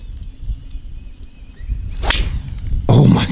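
A single sharp swish and crack of a 3-wood striking a golf ball off soggy turf, loud and close, with outdoor background noise before and a louder burst of rustle just after.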